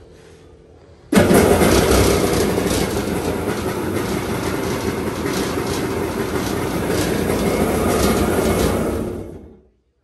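A Kawasaki 650 engine in a homemade 1.8 m aluminium mini jet boat starts abruptly after a quiet moment and roars loudly and steadily at close range for about eight seconds before cutting off.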